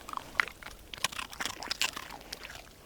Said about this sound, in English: I'll give him a biscuit. You can hear the famous crunch.